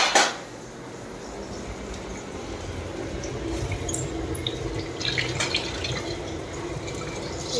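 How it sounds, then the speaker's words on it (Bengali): Dishes are washed under a running kitchen tap, with a continuous splash of water, drips, and scattered clinks of pots and cutlery close by. "আমি ধুয়ে নিয়ে আসছি"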